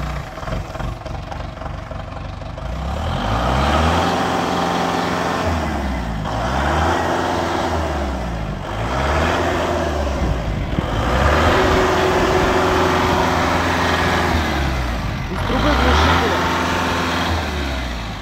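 A 2007 Gros CPCD30 forklift engine runs and revs repeatedly nearby, its exhaust note rising and falling in cycles, with a cracked muffler pipe and people talking over it.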